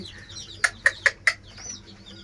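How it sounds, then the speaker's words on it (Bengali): Young chickens peep in a small poultry and pigeon enclosure: four quick, high, evenly spaced chirps in the middle, fairly faint and close, with a quiet background on either side. "এখানে কিছু মুরগির বাচ্চা এনে রাখছি।"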